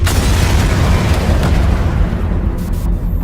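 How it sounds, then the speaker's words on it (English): A bombing explosion in the Watch Dogs Legion video game trailer: a loud, sustained, rumbling boom with a deep low-end roar that slowly thins out toward the end. "Bombings."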